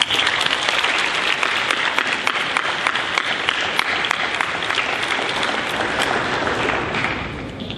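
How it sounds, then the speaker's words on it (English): Sustained applause from a crowd at an eighth grade celebration, dense and steady clapping that carries on throughout before easing slightly at the end. "So let's have a round of applause for Janelle."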